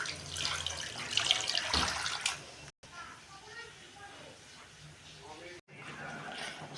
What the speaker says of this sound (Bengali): দিলাম জল পরিমাণ মতো